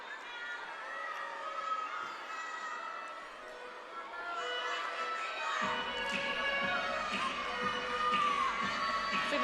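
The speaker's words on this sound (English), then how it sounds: "See all of her teammates cheering her on in the background" Teammates cheer and shout for a gymnast during her routine at a college gymnastics meet, North Carolina at NC State, a steady crowd roar that swells louder midway, with voices and claps mixed through the arena noise.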